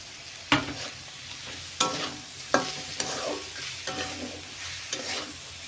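Deboned fish pieces with garam masala and chilli powder fry in a pan while being stirred, with steady close sizzling and a series of sharp scraping stir strokes at irregular intervals, no talking.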